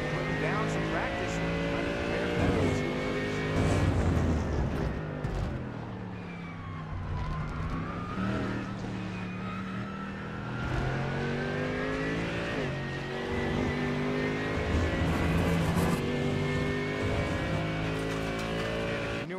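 Mercedes-AMG GT3 race cars in an iRacing sim race at Misano World Circuit Marco Simoncelli, a steady engine drone rising and falling through gear changes, with a commentator talking over it throughout.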